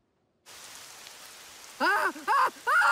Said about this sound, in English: Titans! It's raining!